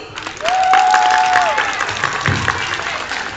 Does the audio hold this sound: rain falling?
no